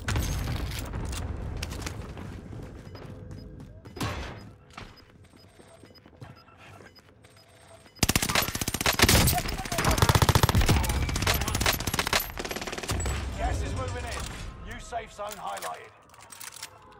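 AS44 rifle fire in the Warzone video game, bursts of rapid automatic shots, quieter at first then louder and denser in the second half, mixed with game effects and a player talking over it.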